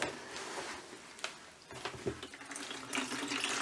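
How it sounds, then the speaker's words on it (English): Water gushes steadily from a tap, a continuous hissing splash with occasional gurgles and shifts as the flow hits something below. "you can hear now the water that's coming out from it"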